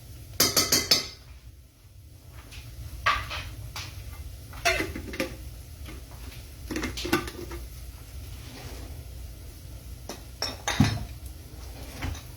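Spice jars clink and knock as they are set back down on a kitchen surface, giving several sharp, close taps scattered among quieter stretches, with no talking.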